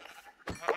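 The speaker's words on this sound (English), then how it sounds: "Oh, sheep. Two sheep." A sheep bleats once in a video game, a short nasal call rising out of low background noise near the end, with no talk over it.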